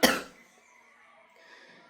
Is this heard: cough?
yes